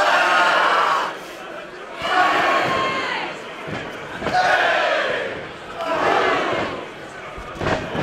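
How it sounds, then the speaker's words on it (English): A wrestling crowd at an OTT show roars in loud, surging waves as Will Ospreay and Matt Riddle fight, with chanting swells rising and falling about every two seconds and scattered thuds beneath. "Not often we hear the crowd turn against Matt Riddle"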